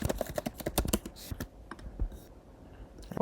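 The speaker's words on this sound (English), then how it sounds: "so I have to type it again" Keys clatter on a computer keyboard as a code is typed in, a quick run of crisp clicks followed by a few sparse taps and a final cluster of keystrokes, close and clear with no talking.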